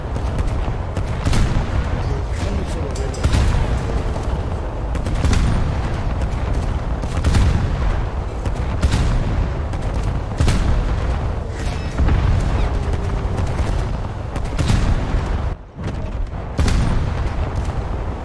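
Naval guns in War Thunder fire rapidly, producing a continuous barrage of loud booming blasts that overlap into dense, sustained roaring gunfire.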